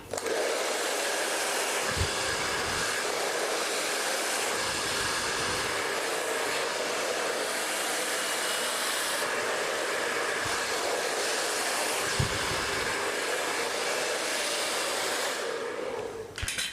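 A hair dryer blows steadily while drying hair before roller setting, a loud, continuous close-up whoosh that runs almost unbroken, with a couple of brief knocks from handling.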